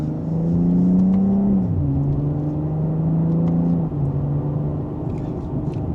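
BMW M340i in Sport Plus mode accelerating in second gear, the engine note rising loudly then dropping after a shift and climbing again, a close, strong rumbling growl.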